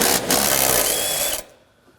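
A ratchet fitted with a 14mm socket works a seat bolt loose on an Acura MDX, producing a close, dense burst of rapid clicking that lasts over a second and then stops abruptly, followed by near silence.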